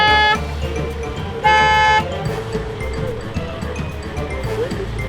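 A train horn fitted to an Ineos Grenadier sounds during an overlanding trip in Maputaland: two loud blaring toots, a short one followed by a longer blast, over steady engine and outdoor rumble.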